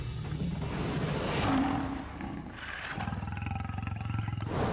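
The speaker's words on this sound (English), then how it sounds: "The lion, the true king of cats." A lion roaring, deep rumbling growls rising into a loud sustained roar, followed by rhythmic grunting pulses, close and dominant throughout.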